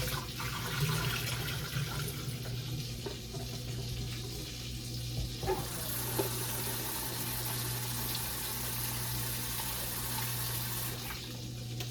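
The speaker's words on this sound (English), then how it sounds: "And I'm just draining out the water." Water from a pot runs and splashes steadily into a sink, a continuous close wash with a low hum underneath and occasional light clatter.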